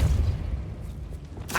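A Depulso spell cast in Hogwarts Legacy on PS5 lands as a deep rumbling boom that fades out, followed by a short bright whoosh at the end.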